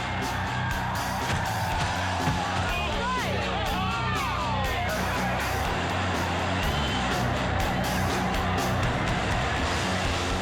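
Rowdy street crowd at festivities in Seattle turning violent: a dense, continuous babble of shouts, whoops and cheering, with a rising whistle or siren-like wail partway through and a narrator speaking over it.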